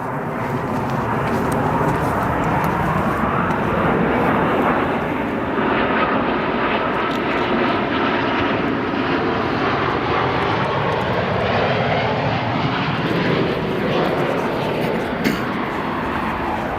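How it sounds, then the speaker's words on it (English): United Boeing 787-10 Dreamliner arriving at Chicago O'Hare from Frankfurt, a loud, steady roar of jet engines that holds strong and close for the whole stretch, with a shifting whine riding over the broadband rumble. "our next arrival is a Boeing 787-10 United Dreamliner arriving from Frankfurt after an 8-hour and 16-minute flight time"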